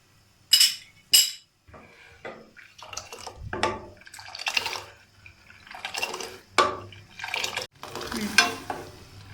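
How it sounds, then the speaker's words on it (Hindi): Kashmiri pink tea with milk, sugar and cardamom being whisked vigorously, the spoon lifted high: irregular splashy bursts and spoon clinks against the pot, close by, with short pauses between strokes. "ये देखिए मैं इतना ऊंची करके फेंट रही हूँ कि इसकी छींटे जो है ना वो देखिए दूध में भी गिर रही है"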